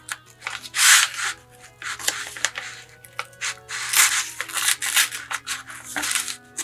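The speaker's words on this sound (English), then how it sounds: "So I like to use my scissors, and I get it in there" Scissors snip and rub through a crinkly paper bag in a string of irregular bursts, close and fairly quiet, with no voices.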